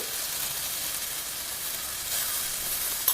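Radish leaves sizzling in a pan while being stirred, an even close hiss of frying that holds steady for a few seconds with a small knock at the end.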